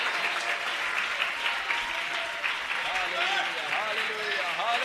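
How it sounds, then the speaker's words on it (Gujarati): A church congregation claps loudly and continuously, a dense steady roar of applause with voices calling and singing mixed in throughout. "મોટા અવાજે તાળીઓ આપીએ."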